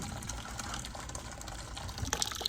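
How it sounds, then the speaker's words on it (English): Water drains quietly out of an oil-fired home boiler being converted to gas, a faint, steady trickle and gurgle with a few small drips and clinks near the end. "I don't have the water on yet, it's just draining what's in there."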